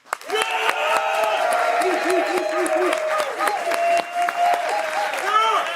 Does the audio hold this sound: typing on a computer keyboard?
no